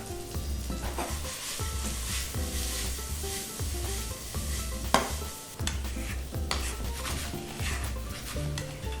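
Cumin-spiced banana (jeera kela) tossed and stirred in a hot pan with ghee and coriander, a continuous sizzle broken by rhythmic scraping and rattling of the pan, with one sharper clatter midway.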